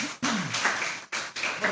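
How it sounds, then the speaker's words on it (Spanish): A church congregation claps together during a worship service: dense, sustained applause that breaks off twice for a moment, then resumes. "Dale una ofrenda de palmas al Rey,"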